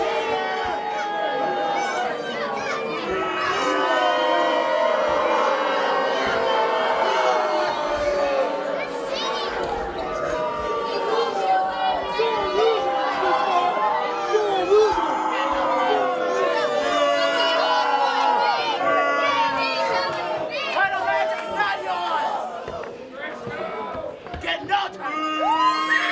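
Wrestling arena crowd yelling and chanting in a loud, busy mass of shouting voices and whoops, with individual yells rising above the roar, continuing for a long stretch before easing slightly near the end.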